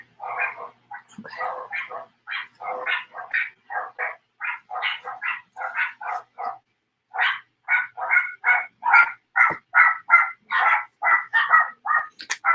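A small dog gives a long run of short, high squeaky yips in an uneven quick rhythm, close and fairly loud, with a brief pause midway and no talking.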